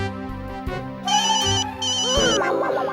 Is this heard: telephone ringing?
yes